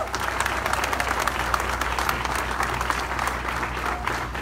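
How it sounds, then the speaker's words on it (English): A crowd at a Topeka downtown plaza donation event claps steadily in appreciation of former Mayor Larry Wolgass, a dense, even wash of applause lasting a few seconds at moderate distance. "let's give him a hand and thank him very much"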